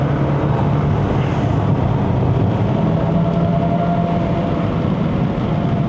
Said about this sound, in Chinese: 它的引擎的声浪不好听